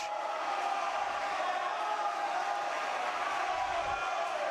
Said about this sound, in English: Prior Lake bringing their cheer squad today.